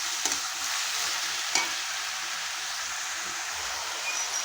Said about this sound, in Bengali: এখন আমি দিয়ে দেবো সামান্য পরিমাণ জল।